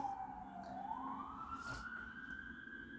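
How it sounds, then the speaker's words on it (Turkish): Ambulance siren passing by, a single faint tone sliding steadily upward from a distance over quiet background noise. "ambulans geçti o yüzden durdum arkadaşlar"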